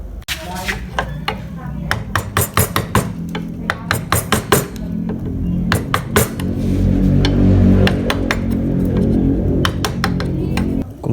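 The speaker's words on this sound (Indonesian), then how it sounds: "kalian bisa menggunakan pahat penguku dikombinasi dengan pahat kol" Balinese wood carving with gouge chisels: a rapid, irregular series of close, sharp mallet taps and chisel strikes that later merge into denser, continuous cutting and scraping.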